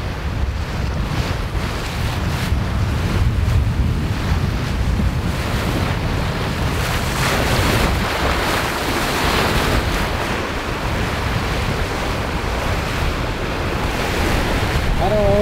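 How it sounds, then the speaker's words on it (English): Strong wind roars steadily at sea while waves surge and break around it, with heavy buffeting gusts hitting the microphone throughout. "when the water flies sideways on top of the waves, then you know it's a lot of wind"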